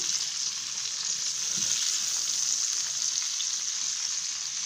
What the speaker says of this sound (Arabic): ديال اللحم ديال البكري هاهو دابا كيتقلى بشي يشوف مليحة والزيت شوية البزار ونخليه يتقلى على خاطرو